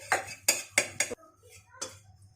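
Butter going into a pan on a gas stove, a few quick close clinks and scrapes of metal utensils against the pan, then quieter handling noises.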